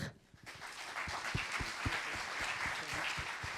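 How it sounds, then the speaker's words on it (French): Quiet audience applause at a conference on life-cycle assessment in the dairy sector, with individual claps clearly distinct and building after a near-silent start to a steady patter lasting a few seconds. "On peut les applaudir."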